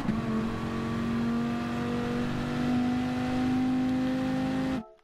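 A Viper GT3-R race car engine at Interlagos in a racing video game, a loud steady high drone with rising pitch lines through short early upshifts, holding near and constant before cutting off abruptly at the end.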